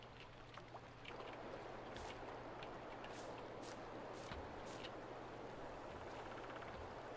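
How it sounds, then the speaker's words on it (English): Steady, soft rushing of flowing water in the video game Farming Simulator 22, with a low hum underneath and a few faint clicks, continuous and fairly quiet throughout. "Can you hear water?"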